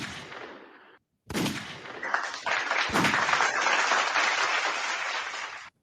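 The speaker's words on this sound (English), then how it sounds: "We got gunshots and claps" Sharp bangs like gunshots punch through a dense, sustained crackle resembling rapid clapping or gunfire, loud and continuous for several seconds.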